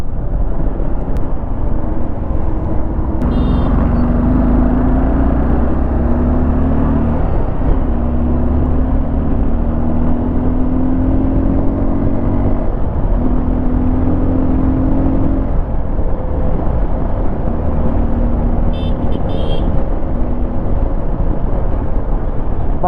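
A Suzuki V-Strom 250 adventure motorcycle's engine drones steadily while riding, with rising and falling gear pitch over constant loud wind rush, heard close and continuous with no talk.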